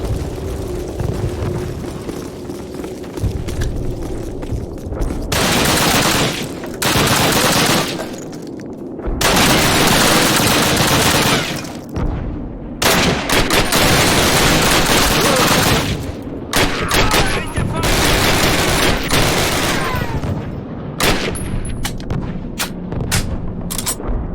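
Dense gunfire and machine-gun bursts from the video game Call of Duty roar loud and close in repeated volleys, separated by brief lulls, with occasional faint voices underneath.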